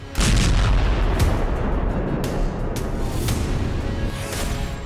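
A loud bomb blast in Delhi bursts in, strong enough to shatter nearby shop windows, then a heavy roaring rumble carries on, with sharp cracks popping through it.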